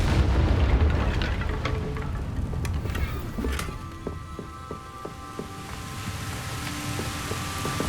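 Incendio fire spell cast in Hogwarts Legacy, a deep whooshing boom with crackling bursts fading into scattered sparkling pops and a low ambient hum, with no talking.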